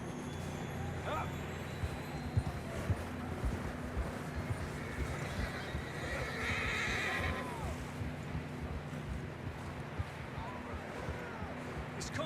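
Horses whinny and neigh in Red Dead Redemption 2, with steady clip-clopping hooves underneath and voices talking over the game sounds.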